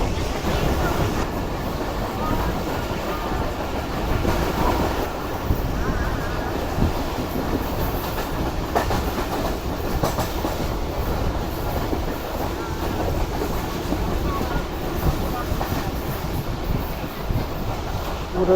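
Jaffer Express passenger train hauled by a Chinese locomotive running along a zigzag mountain track, steady close rumble of wheels and carriages with rhythmic clatter continuing throughout.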